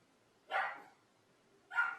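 A dog barks twice, well spaced and fairly faint, each bark short and sharp against a quiet background.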